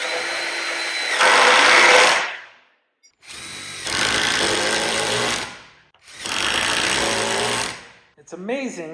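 A power drill drives screws into hurricane brackets at an off-grid build in North Idaho, in three long whirring bursts separated by short pauses, loud and close, ending with a brief higher whine.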